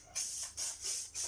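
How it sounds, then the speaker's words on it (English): Silkolene Proprep aerosol sprayed over a motorbike's plastic, rubber and metal casings, three separate hissing bursts with short pauses between them, close to the mic and fairly loud. "Just give it a general spray over everything."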